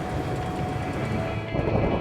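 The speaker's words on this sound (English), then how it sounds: "Just as the rain arrives." Heavy rain sweeps in with thunder rumbling over the Australian outback, a dense, loud, continuous roar with deep low rumbles and no talk.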